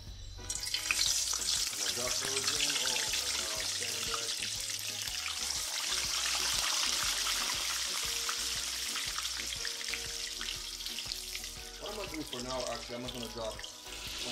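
Steady, dense sizzling of the first four test pieces of fish frying in hot oil, loud and close, with faint clinks and movement underneath and no talking.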